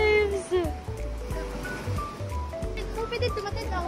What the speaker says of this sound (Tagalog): Ah, big waves.